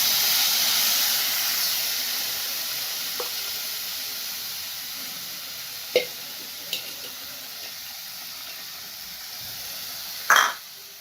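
Milk poured into hot roasted semolina (rava) sets off a loud burst of sizzling and steam hiss that gradually fades, with a few faint clinks of a utensil and a final short sizzle.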